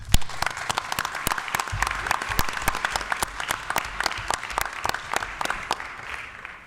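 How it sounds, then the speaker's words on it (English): An audience in a school district commission meeting applauds retiring staff in Lorain, with steady, dense clapping that carries on for about seven seconds and stays at an even level throughout. "we'll just give you a quick round of applause"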